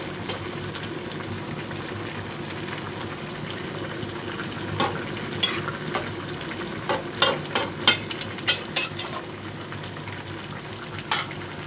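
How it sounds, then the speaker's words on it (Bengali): Hilsa fish pieces go into a pan with Malabar spinach: a steady hissing sizzle throughout, followed by a run of close, sharp taps and scrapes of a utensil against the pan, with no one talking. "দেখো আমি মাছগুলো এখানে দিয়ে দিলাম মাছগুলো দিয়ে খুব বেশি নাড়াচাড়া করব না"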